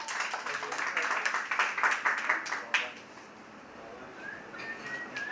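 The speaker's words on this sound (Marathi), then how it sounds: "जोरदार टाळ्या." Applause from an audience after a school in-house talent show performance, a loud burst of clapping that fades out partway, followed by quieter ambience with faint bird calls.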